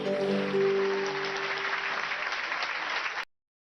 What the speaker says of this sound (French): Messieurs, mesdames, applaudissez.